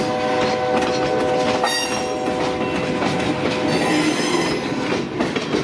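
A loud train rumbles past close by, wheels squealing with high metallic tones and a horn-like drone, steady and continuous throughout.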